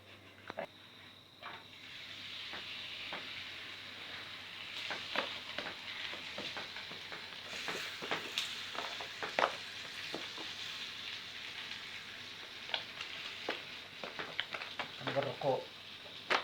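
Sheets of dough fry in a pan in an outdoor rural kitchen with a soft, steady sizzle. Faint scrapes and taps are scattered through it, and someone talks quietly over the frying near the end.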